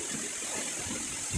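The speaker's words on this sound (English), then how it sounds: "A bit of a cooling off sensation on this side as well because the water is closer to me, splashing from the waterfall." Water from the Salto del Claro waterfall near Pucón, Chile splashes and rushes in a steady, dense broadband roar close by, with a brief low thump at the end.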